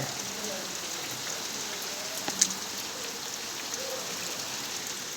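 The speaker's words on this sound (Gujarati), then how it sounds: "આપણે વરસાદ આવ્યો છે જોઈ લ્યો." Steady rainfall pattering on surfaces, with water pouring off roof eaves, a soft continuous hiss with occasional louder drips, no voices.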